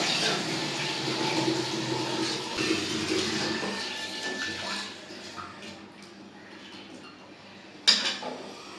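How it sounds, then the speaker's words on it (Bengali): A cup of water is poured into chicken cooking in a pot, making a rushing, sizzling splash for about five seconds that then fades, with a brief clink near the end. "ওই কাপটা দিয়ে এক কাপ পানি দিয়ে দিই যাতে মুরগিটা সেদ্ধ হয়ে যায়"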